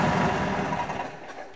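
A 1942 Harley-Davidson Flathead 45 motorcycle engine with forged pistons idles close by, a steady, slightly noisy mechanical chatter that eases a little toward the end.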